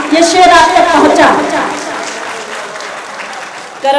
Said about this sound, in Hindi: अगर ताली बजानी ही है तो ऐसे बजाइए कि हाँ ये शेर आप तक पहुंचा